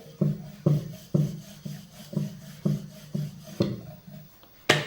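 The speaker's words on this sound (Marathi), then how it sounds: "पीठ लावून पोळी आपल्याला छान लाटून घ्यायची आहे।" A rolling pin works wheat dough into a round for puri, giving a steady series of soft, woody rubbing strokes, about two per second, close up with no talk.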